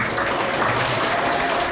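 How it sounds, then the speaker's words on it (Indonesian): Children clap together in a lively burst of applause at a scouting lesson about the coconut-shoot emblem, a dense, steady patter of hands that fills the whole moment without any talking. "Tepuk tangan buat kalian."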